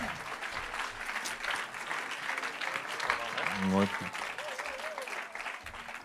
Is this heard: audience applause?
yes